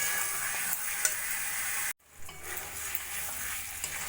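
Chicken pieces with cumin and Kashmiri chili sizzle and fry in a pan while being stirred, a steady crackling hiss broken by a brief dropout midway, then resuming with scraping stir noises.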